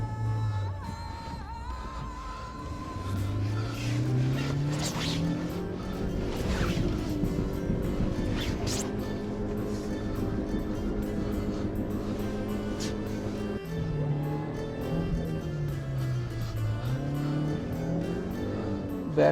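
Suzuki Jimny engine revving and straining while stuck in snow during a whiteout on Shinkula Pass, rising and falling pitch sustained and loud throughout, with clunks and knocks from the drivetrain.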